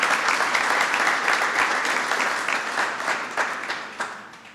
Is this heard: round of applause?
yes